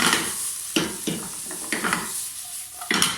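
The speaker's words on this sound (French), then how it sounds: "On veut juste snacker les légumes, c'est tout." Vegetables stirred and sautéed in a frying pan for a pan-cooked pizza matlouh, with a steady sizzle broken by several scraping utensil strokes against the pan, close and clear.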